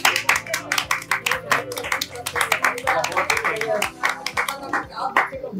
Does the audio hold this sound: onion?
no